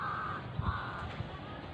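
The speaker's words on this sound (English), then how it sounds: "Ya, It's crow." A crow caws outdoors, two hoarse, drawn-out calls at a moderate distance over steady background noise, with a faint thump between them.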